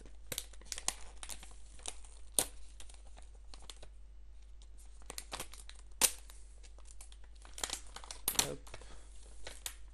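A Pokémon trading card booster pack is torn open and its contents crinkled and shuffled, with close foil crackles and rustles throughout and a few sharper rips, while someone speaks briefly.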